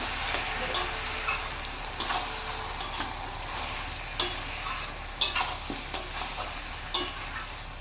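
Fish head curry made with katla fish head sizzles in a pan on the stove while a spoon stirs it, and sharp scrapes and clinks come every second or so over a steady frying hiss.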